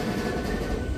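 Singareni MEMU electric multiple-unit train running between Sirpur town and Bhadrachalam Road, a steady loud rumble and rattle heard from inside the carriage, continuous with no voices.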